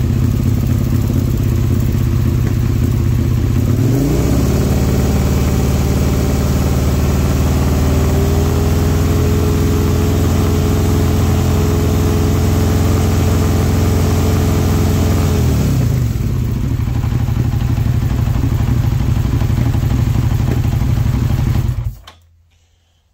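A Suzuki SV650 motorcycle engine, loud and close, idles roughly, then rises to a held higher-revving drone of about 5,000 RPM for several seconds, drops back to idle and cuts off abruptly near the end.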